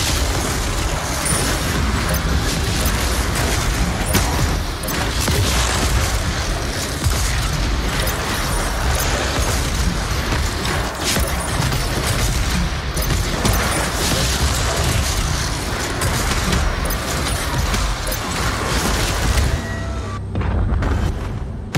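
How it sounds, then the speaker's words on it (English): Ice bombs and frag grenades exploding in DOOM Eternal, a dense, loud, continuous wall of booms and crashes layered with heavy mechanical combat noise and no letup throughout. "You'll have to manually toggle the launcher to fire either ice bombs or frag grenades."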